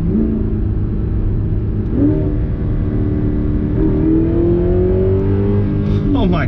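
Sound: Audi R8 engine revving during paddle gear shifts

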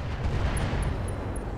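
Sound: ammo explosion in BattleTech RogueTech video game

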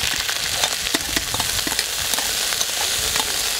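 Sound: sauce poured over chicken thighs sizzling in hot fat in kazan

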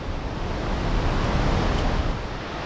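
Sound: water pouring over a weir in a mountain valley stream, like a waterfall

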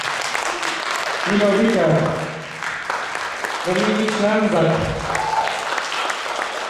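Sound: concert audience applauding band members

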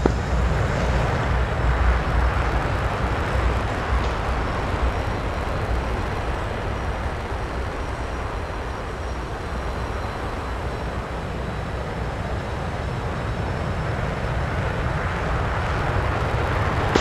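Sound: jet engines roaring in video game DCS, F-15EX takeoff

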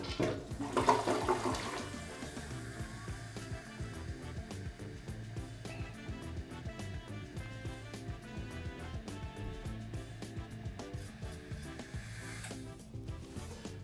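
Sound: toilet flushing

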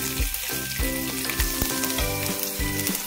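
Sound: garlic sizzling while frying in oil

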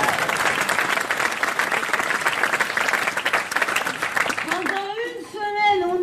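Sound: audience applause

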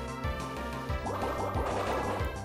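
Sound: Water Pulse attack in video game Pokémon Platinum

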